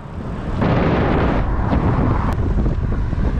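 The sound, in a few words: strong wind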